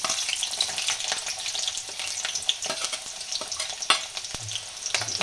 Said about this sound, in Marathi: कांदा थोडा तळू द्यायचा चांगला.